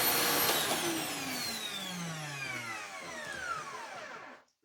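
A household vacuum cleaner runs steadily at close range with a falling whine as its motor slows under variable power, then cuts off abruptly near the end.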